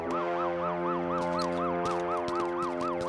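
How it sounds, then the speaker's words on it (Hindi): Ambulance siren wailing in a rising-and-falling cycle about every quarter second, steady and fairly loud, with brief clanks and knocks in the background. "एम्बुलेंस आई है।"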